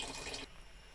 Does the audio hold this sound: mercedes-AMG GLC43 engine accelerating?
no